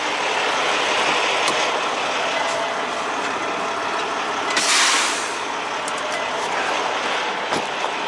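A truck's air brake is set, releasing a short, loud hiss of air about halfway through over a steady idling rumble, with faint clicks on either side.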